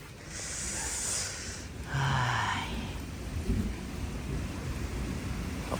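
Steady rain hiss with a low, distant rumble of thunder rolling underneath, no voices present.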